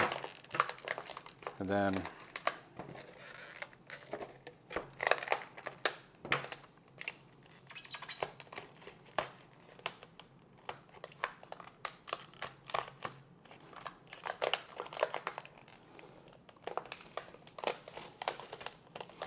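Plastic packaging around a Seagate Backup Plus 4TB portable drive crinkles and crackles faintly as it is cut open along the box edges. A brief spoken phrase is heard among the scattered rustles.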